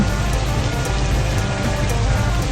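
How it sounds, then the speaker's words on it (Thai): Steady rain drums on a truck cab during a drive in the mobile game Truckers of Europe 3, a continuous broadband hiss with low road rumble underneath, even and unbroken throughout. "ชอบเวลาขับรถฝนตกมันฟินดี"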